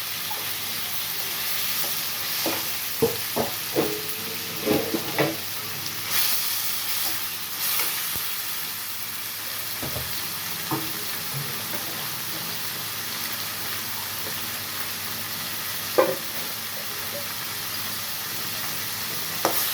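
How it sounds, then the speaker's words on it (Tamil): Tomatoes frying in oil and being stirred for a mushroom fry, a continuous soft sizzle with intermittent spatula scrapes and taps, a sharper clack near the end, no talking. "தக்காளி நல்லா வதக்கணும்"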